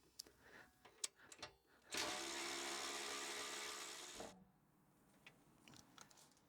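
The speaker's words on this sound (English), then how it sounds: "we undo these bolts here at the bottom" Power tool undoing bolts at the base of a seat partition in a Suzuki Jimny light commercial vehicle: a steady whirring burst of about two seconds, preceded and followed by light clicks and handling noise, fairly close.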